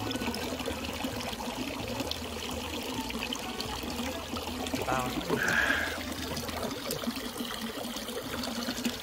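Natural spring water runs in a steady, even trickle at Donghwasa temple, a continuous outdoor flow with faint background sounds and a brief louder splash partway through.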